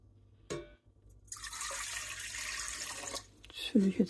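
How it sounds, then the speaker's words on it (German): About 300 ml of lukewarm water poured from a container into a mixing bowl of flour for bread dough, a steady splashing stream lasting under two seconds after a brief knock, with a few quiet words near the end. "So, jetzt habe ich hier 300 Milliliter lauwarmes Wasser."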